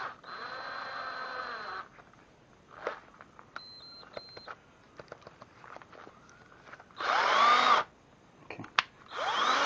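A cordless drill with a low battery whirs in three short bursts, a longer run at the start and two briefer ones near the end, separated by quieter clicks and handling noise.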